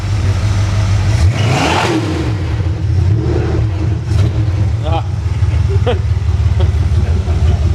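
A loud car engine runs steadily on a test stand, with revving swells and low rumble throughout, after one of its exhaust pipes has blown off, while people talk over it.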